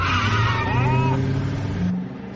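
A car speeds recklessly with a loud, close engine roar and tires squealing through a skid, easing off near the end, while voices shout briefly.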